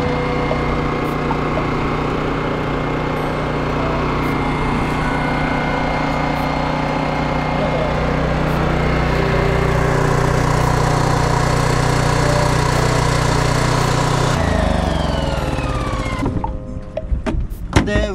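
A portable generator runs steadily on a fishing boat at night to power underwater lights for glass eel fishing, a loud, continuous close engine drone that drops in pitch near the end amid a few clunks.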